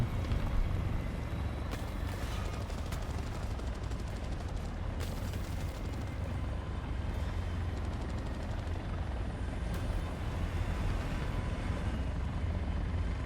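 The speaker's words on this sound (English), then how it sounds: "I was like, is that an enemy helicopter? But no," A friendly helicopter in the War Thunder game flies overhead during a high-tier ground battle, its steady rotor roar loud and continuous with sporadic gunfire crackling in the background.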